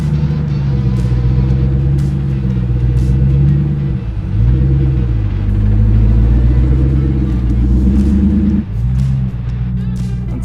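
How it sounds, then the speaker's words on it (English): A Jeep Gladiator with a swapped-in Demon engine crawls down a Moab off-road trail in first gear. Its deep, steady engine rumble sits close and loud, with a few dips and rises in pitch as the revs shift, and no talk over it. "Just shift down to first gear and just let the Jeep walk itself down."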